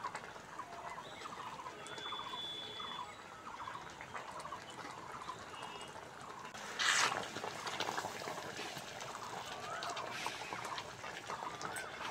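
Egg curry gravy simmering in a pan, soft bubbling and gurgling at low volume, steady with one brief louder burst partway through.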